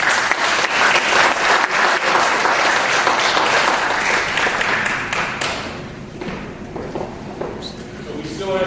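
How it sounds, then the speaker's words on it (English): An audience at a diversity and inclusion summit applauds a conference panelist, dense loud clapping that fills the room and gradually thins out toward the end, with voices talking over it. "Let's give this panelist a round of applause."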